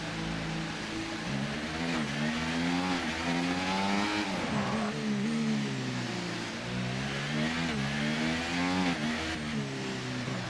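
Formula 1 car engine in the F1 2024 racing game, a steady high-pitched whine that rises and falls through repeated gear changes, loud and continuous with no talking.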